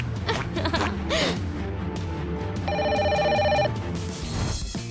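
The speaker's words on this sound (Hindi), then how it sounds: "सिर्फ रिंग बज रही है, फोन उठाओ।" A telephone rings in a FNaF hide-and-seek game as a short burst of electronic ringing over busy game sounds and music, loud and close.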